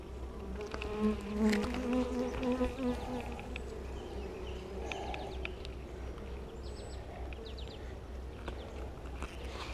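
Honey bees drone around an open hive during an inspection, a dense close buzzing with individual bees passing near, steady throughout.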